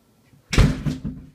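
The front door of a condo unit swings open with a single sharp knock and clatter, followed by a couple of softer rattles as it settles, close and fairly loud.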